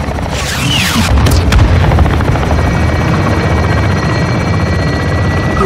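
A helicopter in Modern Warfare 2 fires on targets: a sharp whooshing launch and a heavy boom early on, then a steady close rotor drone throughout.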